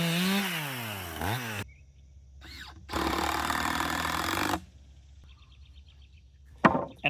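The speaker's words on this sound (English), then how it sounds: "Just use a chainsaw." A chainsaw trims the tops off wooden posts for a farm stand, two loud sustained cutting bursts with revving between and idle pauses, close and without talk.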